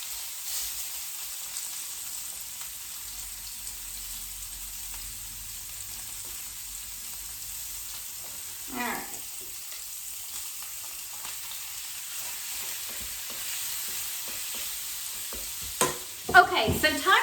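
Thin strips of pork for tacos searing in a pan, a faint steady sizzle with a few clattering stirs and louder scrapes near the end, no voices.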